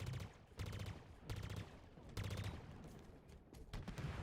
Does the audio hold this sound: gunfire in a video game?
yes